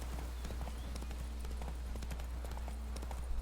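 Roach, the horse in The Witcher 3, clip-clops steadily on its hooves in a quick even rhythm with crisp, close hoof strikes over a low background hum.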